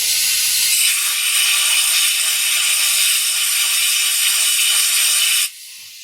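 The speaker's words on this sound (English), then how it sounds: "Get some carb cleaner in there until it starts coming out the other end of the passage" Carb cleaner sprays in one continuous, loud, close hiss into a Kawasaki KZ400 motorcycle carburetor passage for about five seconds, then stops abruptly, leaving quiet room tone.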